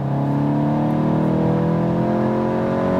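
A Volkswagen Golf GTI's combustion engine, boosted by a front speaker, hums steadily from inside the car while driving, its tone climbing gradually as it accelerates, with no talking.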